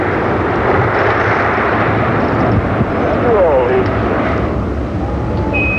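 Space Shuttle Atlantis lifts off on a six-crew Department of Defense mission as its solid rocket boosters ignite. A loud, steady, broadband roar rumbles continuously, with faint tonal sounds passing over it.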